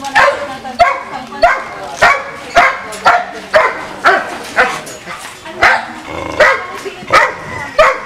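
A dog barks again and again in a steady run of sharp barks, loud and close, with a few whimpers mixed in. The barking comes from around a pig farm, and people talk now and then between the barks.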